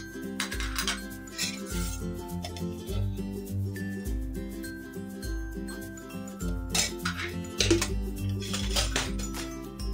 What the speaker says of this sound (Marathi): हे घालून एकदा ढवळून घेऊया आपण